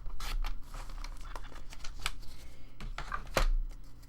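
Scissors snip through paper scraps while making a notepad and Post-it holder, giving a few quiet crisp cuts and rustles spread irregularly over a few seconds, close and soft against a low background hum.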